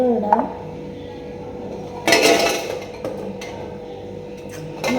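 Oreo biscuits are dropped into a mixer jar, giving a few hard clinks and rattles as they land against the container, separated by quiet stretches.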